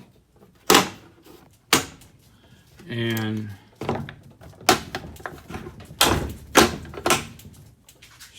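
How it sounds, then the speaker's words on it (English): The wooden cabinet doors of a shop bandsaw station for a Ryobi bandsaw are shut with several hollow knocks and thumps, close by. One short creaking slide sits among them, and someone talks briefly between the knocks. "And then just shut the doors."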